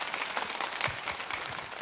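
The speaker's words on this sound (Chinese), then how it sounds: "掌声鼓励" Audience clapping at a Spring Festival gala show as a contest winner is announced, a short, faint burst of steady applause from the crowd.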